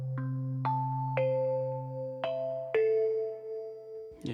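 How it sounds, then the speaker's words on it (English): A Heavyocity Mosaic Neon synth plays a doorbell-like chime, five clear struck bell tones stepping in pitch and ringing out over a sustained low note, bright and close with no talking. "This one's almost like a beautiful doorbell kind of thing."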